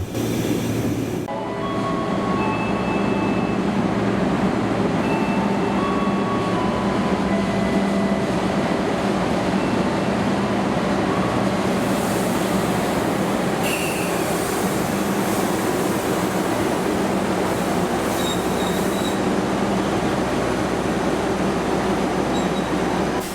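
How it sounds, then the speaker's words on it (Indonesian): A CC300 diesel locomotive on a special trial run departs Jakarta Gudang station with a loud, steady engine rumble and rolling rail noise, plus a few brief higher squeals, continuous throughout and with no voices. "ini persiapan berangkat dari stasiun Jakarta Gudang KLB CC300-nya"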